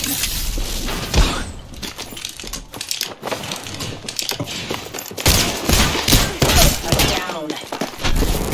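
Apex Legends firefight with rapid automatic gunfire, impacts and shattering effects in dense bursts, loud and close, with some voices among the din.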